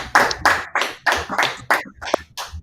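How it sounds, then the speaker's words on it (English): A small group claps in a class in a loose, uneven rhythm of about eight distinct claps, close and moderately loud, ending in a few scattered taps. "Clap it up."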